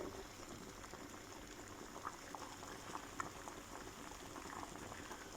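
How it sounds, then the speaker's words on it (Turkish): A pot of water with eggs in it bubbles steadily at a rolling boil, with small pops and ticks rising from the constant gurgle. "burada da yumurtamız kaynıyor"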